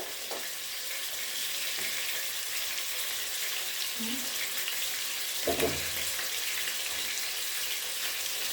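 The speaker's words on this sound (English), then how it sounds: "I'm going to put 2 cups of water." Steady hissing rush of two cups of water pouring into a pot for rice, continuous throughout, with a couple of brief clunks.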